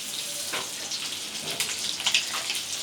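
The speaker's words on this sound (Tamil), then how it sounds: "எண்ணெயில் கடுகு சேர்த்துக்கலாம்." Mustard seeds dropped into hot sesame oil for raw mango pachidi: a steady, fine crackling sizzle with small pops rising here and there, close and moderately loud, with no talking.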